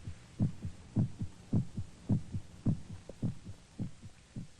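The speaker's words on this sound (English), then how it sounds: "The sound of our heart pounding against our ribs." A human heart pounding in a slow, steady rhythm, each beat a muffled low double thump, about a dozen throbs repeating evenly over a faint hum.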